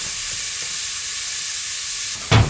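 Onion fries in a pan for chicken adobo, a steady close hiss of sizzling that runs throughout, with a brief louder clatter of stirring near the end.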